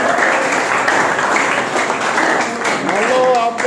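A crowd at a street interview with young people about the Lok Sabha elections breaks into dense, steady applause, with a voice rising briefly near the end.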